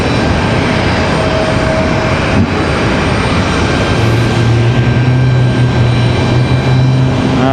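An American Airlines Airbus A319-100 arriving at Raleigh-Durham airport passes as a steady, broad engine roar, with low tonal hum strengthening in the second half and no voices.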